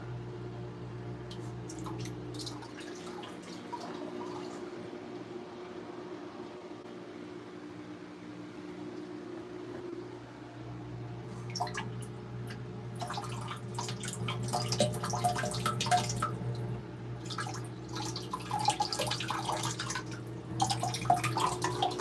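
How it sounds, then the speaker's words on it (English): Water fills a fish tank with a low gurgling hum and intermittent squishy splashing and dripping, quieter at first and growing busier and louder toward the end. "so I'll just keep filling it up with water"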